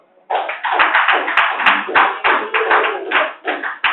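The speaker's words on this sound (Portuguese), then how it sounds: "Vamos glorificar o Senhor com as palmas?" A church congregation claps steadily and briskly for several seconds in praise, dense overlapping handclaps filling the room with a loud, continuous patter.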